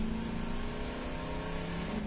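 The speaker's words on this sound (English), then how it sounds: "but I can't hear it over the revving of the ATV." ATV engine in the video game Voices of the Void droning at a steady rev, a continuous low mechanical hum with no talk over it.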